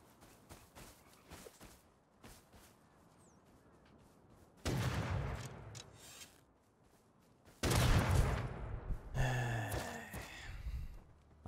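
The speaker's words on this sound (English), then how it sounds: "I don't know if he was shooting at me" Gunfire in the survival video game Rust Console Edition, with scattered distant shots early on, then two loud close bursts of fire with rumbling echoes and clattering movement.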